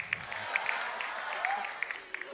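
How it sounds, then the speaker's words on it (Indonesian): A stand-up comedy open-mic audience gives a faint, distant patter of applause for a kiai comedian, with a few sharper claps standing out from a soft, continuous wash of clapping. "beri tepuk tangannya meriah sekali"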